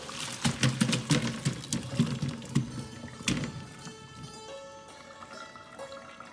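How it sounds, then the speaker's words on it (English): Water pours and splashes out of a pot of boiled taro (arbi) being drained, a loud gush at first that trails off into lighter trickling and dripping. "So let's just drain the water and we are going to peel the skin now."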